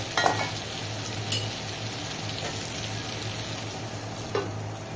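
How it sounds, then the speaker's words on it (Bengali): Bitter gourd (karela) frying under a lid in a pan, a steady low sizzle with a few faint clinks and stirring knocks, fairly quiet and close, no voices. "এখন প্রায় 3 মিনিট মতো ঢেকে এটাকে আমি ভাজতে রেখে দিব"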